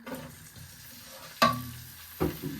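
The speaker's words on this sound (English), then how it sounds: "When that's nicely hot, you'll start frying your chicken." Chicken frying in a pan with a steady low sizzle, broken by two sharp clatters of a utensil scraping and stirring.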